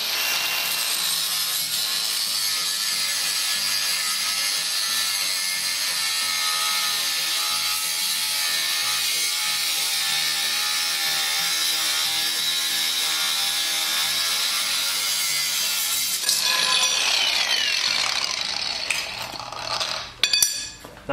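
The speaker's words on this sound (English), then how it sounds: "I'm gonna trim off this piece of rod, and then we can weld that solid on there." Metal rod being trimmed off during a 1958 RJ58 wheelie horse restoration, a steady continuous grinding-cutting drone lasting most of the clip, close and loud, then shifting to rougher scraping and clanks near the end.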